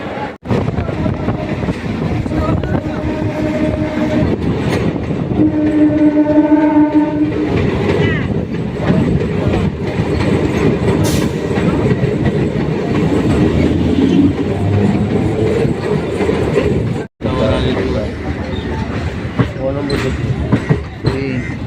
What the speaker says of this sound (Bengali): এই হচ্ছে আজকে আমাদের ট্রেন তেরো হাজার সিরিজের নকোচের গাড়ি